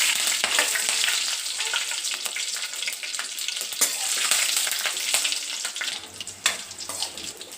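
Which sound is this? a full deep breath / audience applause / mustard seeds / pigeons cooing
mustard seeds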